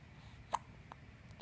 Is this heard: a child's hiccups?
yes